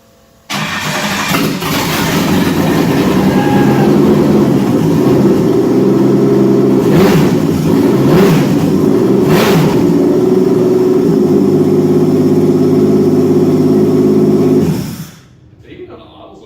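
A V6 engine swapped into a Chevrolet Luv cranks, catches and settles into a loud, steady, rumbling idle close by, with voices over it, before it cuts off near the end.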